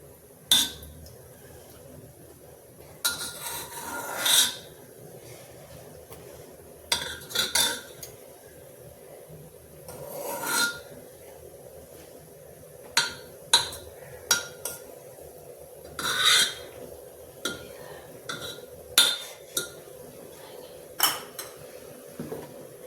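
A metal spoon clinks and scrapes against a pot while skimming foam off simmering urad or masoor dal with spinach, a series of sharp separate knocks and taps over a quiet background.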